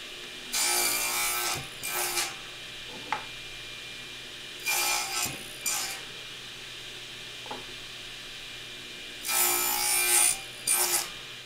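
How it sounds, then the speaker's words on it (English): A hand saw cuts shoulders for a wooden tenon in bursts of rasping strokes, three groups of quick back-and-forth sawing separated by pauses, with faint knocks between them. "Now I have my shoulder cuts made on my tenon on the 3 sides"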